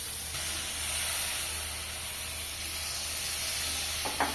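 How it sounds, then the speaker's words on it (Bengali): Spice paste with green chili sizzles and hisses steadily in a small hot karai after water is added, for a bottle gourd curry; a continuous close, even broadband hiss with a faint clink near the end. "পানি দিয়ে করে লাগিয়ে দিচ্ছি মশলা।"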